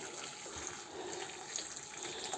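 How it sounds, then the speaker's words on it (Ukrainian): Boiling water pours steadily from a kettle over washed purslane in a bowl, a soft continuous splashing trickle that stays fairly quiet and even throughout. "А тепер залийте це все кип'ятком."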